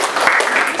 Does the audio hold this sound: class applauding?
yes